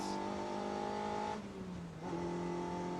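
An S1 Sport 190 race car engine holds a steady rev, dips briefly as the throttle eases, then picks back up, loud and close throughout.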